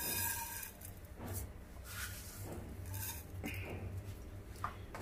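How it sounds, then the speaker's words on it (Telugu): Sesame seeds roast in a pan for gongura pachadi, with soft scraping and light metallic clinks of a spoon stirring over a low, steady background hum. "నూగులు వేయించుకుంటాను."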